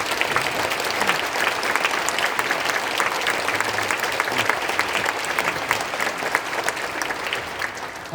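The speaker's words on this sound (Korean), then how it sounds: "큰 박수 한번 쳐주시고요" Loud, steady applause from an audience at a Korean War remembrance prayer meeting, with dense clapping that carries on evenly for about eight seconds.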